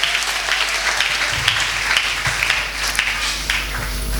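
A church congregation applauds together in a steady wash of clapping for about four seconds, loud and close, with a few faint voices underneath.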